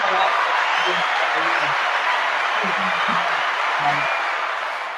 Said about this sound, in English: I'm applauding the reconciliation, not the fallout.